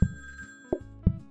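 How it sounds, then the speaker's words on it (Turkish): A telephone rings in the PlateUp! restaurant video game, a few sharp electronic ring bursts with soft gaps between them, close and clear with no talk over it. "Abi telefon."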